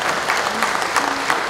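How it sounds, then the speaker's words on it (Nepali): Steady applause from a convention hall audience at a Lions district convention in Nepal, a brief, even patter of many hands clapping together. "सम्पूर्ण हाउसले एकचोटि मलाई चाहिँ ताली बजाइदिनु मन लागेको छ"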